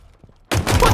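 Burst of gunfire in Halo Infinite starting abruptly after a quiet moment, loud and dense rapid shots filling the rest of the second.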